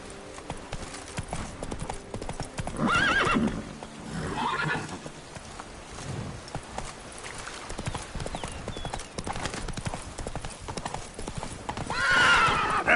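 Roach, a horse in The Witcher 3 on PS5, gallops with steady clip-clopping hoofbeats and snorts, with a couple of loud whinnies breaking through near the start and again at the end.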